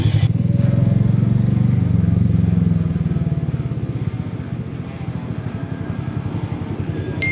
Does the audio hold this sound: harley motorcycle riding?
yes